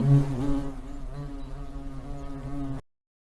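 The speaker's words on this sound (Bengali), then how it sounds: "এটাকে বলা হয় হর্নেট হর্নেটকে বাংলায় বলা হয় ভীমরুল" A hornet buzzes close by for a few seconds, a low droning hum that wavers slightly before cutting off.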